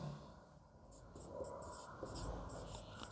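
Chalk or marker writes on a board in short, light strokes, faint and close, with a low room hum underneath during a maths lesson.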